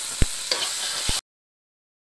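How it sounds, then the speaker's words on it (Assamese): Boiled potatoes with chili powder are stirred and fried in a pan, giving a soft steady sizzle with a few sharp spoon knocks against the pan, then the sound cuts off abruptly. "এতিয়া এয়া মই অলপ জলকীয়া গুড়ি দিছোঁ ইয়াতে আৰু অলপ ভালদৰে লৰাই ল'ম"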